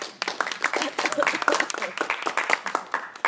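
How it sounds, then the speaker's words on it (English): An audience at a high school debate round claps for the next speaker taking the stand, a dense, steady burst of applause lasting a few seconds with no lulls. "Let's give our last speaker, Ms. Hope, a round of applause and welcome her to the stand."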